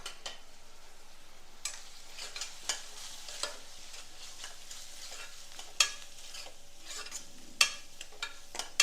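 Ground coriander-cumin, turmeric and red chilli powder stirred with tomatoes and peas in a pan over medium-low flame, with a steady quiet sizzle and occasional sharp clicks of a spoon against the pan.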